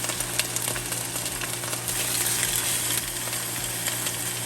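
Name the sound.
palomilla steak frying in a pan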